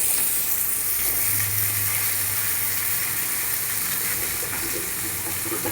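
About a quarter kilo of small onions sauté in hot oil in a pan, giving a steady, close, broadband sizzle and hiss that stays even and unbroken from start to finish with no voices.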